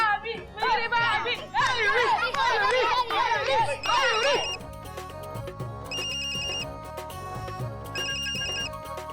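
A mobile phone rings with a bright electronic ringtone melody that repeats in bursts, first under several overlapping chattering voices, then nearly alone with short pauses between phrases.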